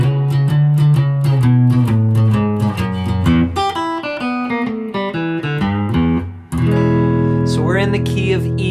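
A blues ending lick in E, built on a blues-scale idea and played on guitar in eighth notes. The run of clear, loud single notes descends before a final held chord rings out, with no talking.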